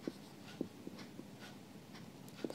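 Chalk or marker strokes on a board during a maths class on triangles: short, faint scratchy taps in an irregular rhythm in a quiet room.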